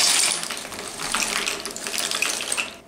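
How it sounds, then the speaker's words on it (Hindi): Dry penne pasta tipped into a pot of boiling salted water with a little oil, a brief bright clatter and splash that settles into a steady close bubbling hiss with no voices. "और अब हम इसमें डालेंगे पास्ता"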